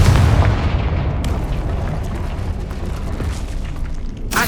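A Confringo fire spell blasts in Hogwarts Legacy, a loud booming explosion with a heavy low rumble that rolls on and slowly decays over several seconds, with a sharp crackling burst flaring near the end.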